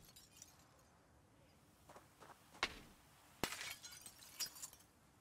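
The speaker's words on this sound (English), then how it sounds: "I'll always remove broken glass." Broken glass being knocked out of a window frame in Project Zomboid: a few sharp crashes and tinkling shards, with a big shatter midway and scattered clinks after, over a quiet background.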